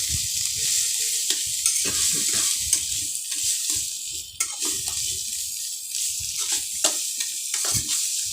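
Potatoes sizzle in hot oil in a pan while a utensil scrapes and stirs them in irregular strokes, a steady close frying hiss with clattering stirs and no talking.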